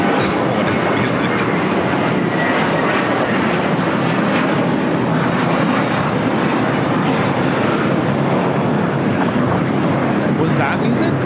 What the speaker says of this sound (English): It's American Flight 4 taking off to JFK on an A321